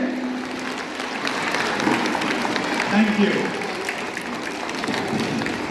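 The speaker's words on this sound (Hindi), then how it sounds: "तो आप सभी परफॉर्मेंसेस के लिए एक जोरदार ताली बजा दीजिए" An audience at a school inter-house group dance event applauds the dance performances, with a steady bed of crowd clapping under a voice that speaks briefly over it.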